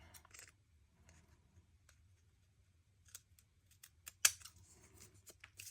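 Scissors trim excess paper from a hand-assembled sketchbook page in a quiet room. The snips are faint and sparse, with a sharper close cut near the end.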